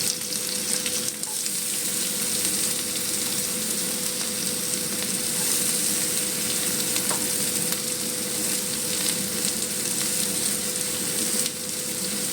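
Chopped onions hitting hot oil with dried red chillies in a home kitchen pan, a dense, loud, continuous sizzle that holds steady from start to finish.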